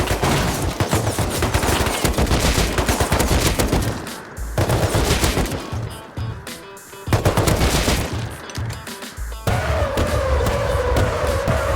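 Rockets fired in the video game Rust, bursts of loud rapid blasts and explosions in clusters, broken by short quieter gaps.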